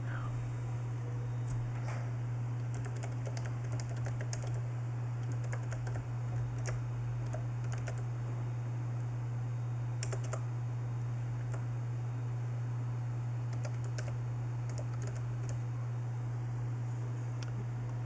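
Steady typing on a computer keyboard as an email ID is entered, soft, fairly even keystrokes over a constant low hum and background hiss, continuing for a long stretch with no talking.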